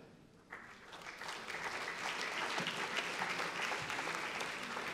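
A conference audience bursts into applause as a round-table moderator comes on stage at a colloquium; steady clapping from many hands begins abruptly after a quiet moment and holds at an even level, somewhat distant.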